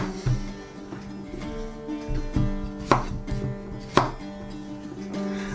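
A knife cuts the ends off peeled cucumbers on a board for tzatziki: a few distinct, solid chops spaced a second or so apart, close and clear over a low steady hum, with no talking.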